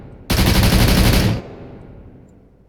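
A World War II anti-aircraft gun in the ArmA 3 IFA3 Lite game fires a loud, rapid sustained burst for about a second, then cuts off abruptly, leaving a fading echo.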